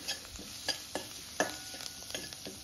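Finely chopped garlic and ginger fry in a pan for fish soup with a soft, steady sizzle, while a spoon scrapes and taps against the pan in irregular strokes, close up and without talking.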